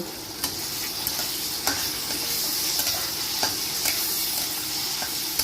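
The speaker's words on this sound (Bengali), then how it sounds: "একটু নাড়াচাড়া করে পেঁয়াজটা ফ্রাই করে নেব" Onion being stirred and fried in a pan with salt and turmeric already added, a steady close sizzle broken by the repeated scrape and knock of a spoon at an irregular rhythm, with no talking.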